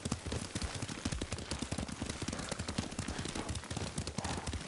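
Horse hooves pound steadily at a fast gallop while riding in Ghost of Tsushima, a dense, continuous drumming of close, moderately loud footfalls with no break.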